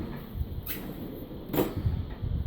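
A drawer on a shiny tool box slides open with two short, soft metallic swishes over a low background hum.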